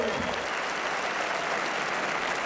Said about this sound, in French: Il y aura Laurent Baffy et François Rollin, qu'on peut applaudir dès maintenant.